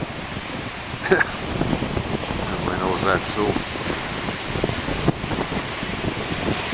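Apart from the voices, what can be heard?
ocean waves breaking with wind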